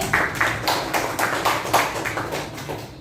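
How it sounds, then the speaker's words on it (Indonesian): A classroom applauds Gusti with a short round of clapping from a small group, quick, slightly uneven claps in a fairly regular rhythm, close and clear, with no talking. "tepuk tangan buat Gusti"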